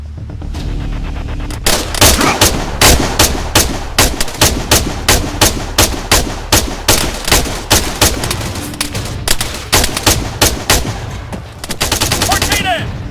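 Machine gun fire rattles through an Arma 3 firefight in loud, rapid bursts, with repeated sharp shots in long strings separated by brief pauses, close and dominant throughout, with occasional voices under the gunfire.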